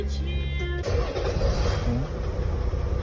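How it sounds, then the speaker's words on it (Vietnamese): A Toyota Land Cruiser fitted with a retrofitted push-button start-stop system fires up after a brief tonal chime, and a loud, steady engine rumble continues close by. "Muốn nổ máy thì đạp thắng, nhấn nút"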